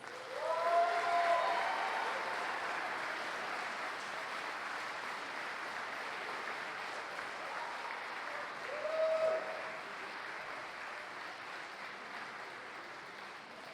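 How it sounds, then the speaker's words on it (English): Fairly distant applause fills a hall as a crowd welcomes an honoree at a wrestling hall of fame event. Steady clapping swells at the start, eases off, then rises again briefly with faint cheers. "Please clap your hands and help me welcome my first unsung hero"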